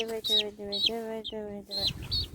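Repeated calls from chicks with harmonic, tonal notes and higher chirps, close by, in a steady sequence of short cries over light background noise.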